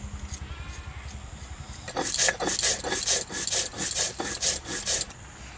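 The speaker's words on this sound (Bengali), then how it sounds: "এবার আমি গোটা জিরা বেটে নিচ্ছি গোটা জিরার সাথে দিয়ে দিচ্ছি আমি গোলমরিচ" Whole cumin seeds and black pepper are ground into a paste on a grinding stone, giving a steady run of rhythmic rubbing strokes, close and fairly loud, after a quieter stretch of low background sound.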